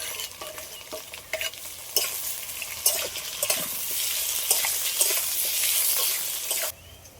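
Ginger-onion paste sizzles loudly as it fries with lightly pre-fried potatoes, with irregular scraping stirs and spatula knocks breaking through the hiss before it suddenly drops off near the end. Nobody speaks.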